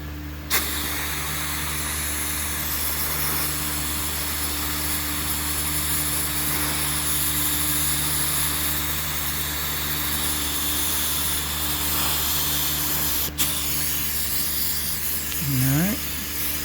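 Compressed air hisses steadily over freshly painted metal on a 1969 John Deere patio tractor, a constant broadband rush that stays loud and close throughout, with one brief sharp click partway and a short whistling sweep near the end.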